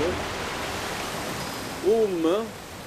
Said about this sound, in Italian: Cascata in caduta.